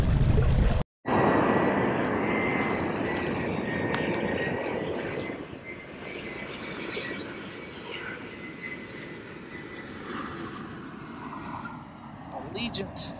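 Allegiant airliner passing overhead near Harrisburg on a windy, chilly riverside, its broad engine roar loud at first and then fading steadily, with wind buffeting throughout and a short break near the start.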